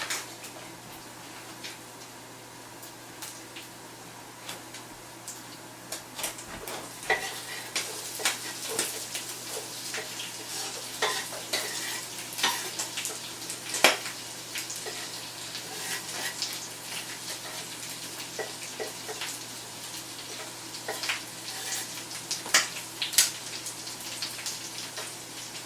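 Chopped onions and garlic fry in a paella pan while cooking for a paella from Spain, giving a steady close sizzle dotted with sharp crackles and pops throughout, with no talking.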